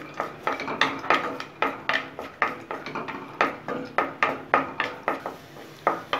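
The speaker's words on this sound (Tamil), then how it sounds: "கூடவே கொஞ்சமா திராட்சை சேர்த்துட்டு இந்த நெய்யில நல்லா வறுக்கணும்." Cashews and raisins are roasted in ghee in a pan, with a spoon stirring in a steady, even rhythm of close scraping strokes and metallic clinks and almost no sizzle.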